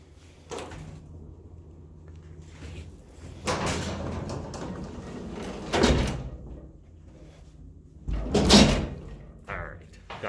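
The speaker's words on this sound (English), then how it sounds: "We gotta shut the doors because these are manual doors and they are awfully heavy." A heavy manual outer door on a vintage Eastern hydraulic freight elevator is shut, giving loud sliding rumbles and bangs around the middle and end, with a person talking in between.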